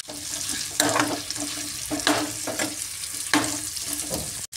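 Chicken pieces with turmeric fry in hot oil, a steady close sizzle broken by three or four scraping stirs of a spoon against the pan.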